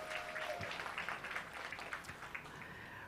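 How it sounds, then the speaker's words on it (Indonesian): Indoor fashion show audience gives fairly quiet, even applause, a steady wash of clapping that tapers slightly toward the end. "Boleh sekali lagi berikan tepuk tangan hadirin sekalian."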